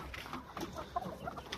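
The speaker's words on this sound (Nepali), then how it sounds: "यो लोकल कुखुरा अथारो बसेको छ" A local hen sitting brooding on eggs gives soft, low clucks in short irregular bursts, close by, over faint background noise with no talking.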